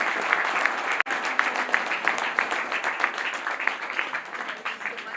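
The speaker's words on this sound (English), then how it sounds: "we owe them a good hand clap or applause" Audience applause at a graduation ceremony for a children's club, a steady wash of many hands clapping at close range that holds for the full stretch with one brief sharp knock early on.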